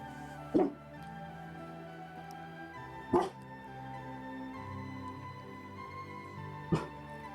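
A dog barks three times, in single sharp barks spaced a few seconds apart, moderately close against a quiet indoor background.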